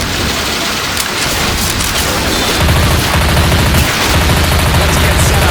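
Left 4 Dead 2 gameplay during a heavy storm: dense rain hissing throughout while rapid gunfire bursts rattle in, loud and continuous, with the shooting thickening in the second half.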